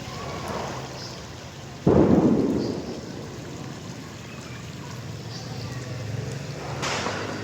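Heavy rain falling steadily outdoors in Kallakurichi with a sudden loud thunder crack that rumbles and fades over several seconds, then continued downpour with another distant rumble near the end.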